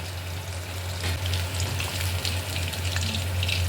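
Chicken pakoras deep frying in hot oil give a soft, steady crackling hiss over a low background hum, fairly quiet and without voices.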